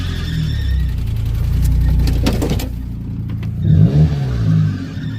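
A car engine idles and revs steadily with a noisy serpentine belt, a continuous rough, moderately loud mechanical drone with a brief surge near the end.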